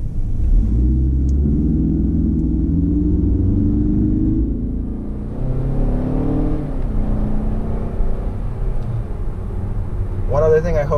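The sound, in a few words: 2018 Mazda 6 interior noise while driving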